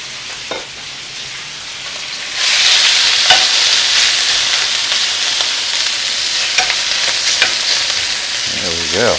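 Chicken sears in olive oil in a pan, a loud steady sizzle swelling up after a quieter start and holding constant, with a few sharp clicks of utensil against the pan.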